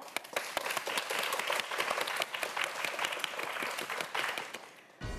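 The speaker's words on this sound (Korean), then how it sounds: "네 학생 모두에게 큰 박수 부탁드립니다." A studio audience at a student quiz show claps in a dense, sustained burst of applause with sharp individual claps, continuing for several seconds before stopping abruptly near the end.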